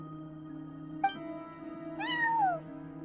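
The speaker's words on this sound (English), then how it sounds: "No one except for a cat watching over the front desk." A cat at a front desk in a video game gives two short meows, the second longer and falling, over a steady low ambient hum.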